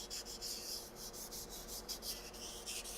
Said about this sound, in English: So keep your sanding to the base of the keyway and out.